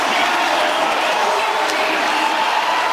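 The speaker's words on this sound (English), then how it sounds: "And that draws a big round of applause by the quarterback" A steady wash of stadium crowd noise at an NFL football game, Jets at Patriots, a broad even roar of applause and murmur from a large distant crowd that holds constant throughout.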